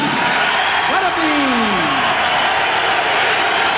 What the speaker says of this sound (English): big round of applause for Butterbean.